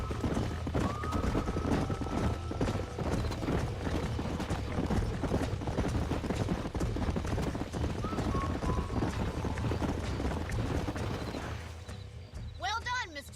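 Horse hooves clip-clop steadily in the video game Red Dead Redemption 2, a continuous rhythmic trot with occasional creaks. Voices talk over it throughout, and it fades toward the end.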